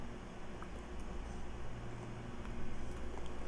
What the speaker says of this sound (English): the background noise, is the fan from my laptop that I'm recording on.